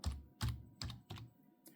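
Keystrokes on a computer keyboard while a printer name is entered during printer driver setup, about four distinct broadband clacks in a slow, even rhythm, close and moderately loud with no talk.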